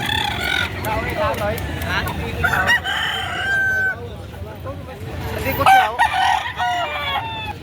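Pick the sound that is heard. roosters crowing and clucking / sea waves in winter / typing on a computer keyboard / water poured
roosters crowing and clucking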